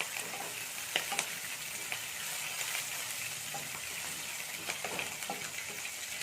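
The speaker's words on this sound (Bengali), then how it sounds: "চার পাঁচটা কারি পাতা দিয়ে একটু একটু ভেজে নেবো এটাকে" Green chili, white sesame and curry leaves fry in oil with a loud, steady crackling sizzle throughout, a few sharper pops and stirring scrapes on top, close and without speech.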